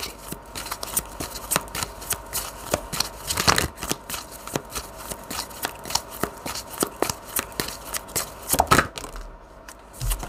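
Tarot cards being shuffled by hand, a steady stream of crisp riffling flicks and soft slaps close up, with a few sharper snaps and no speech.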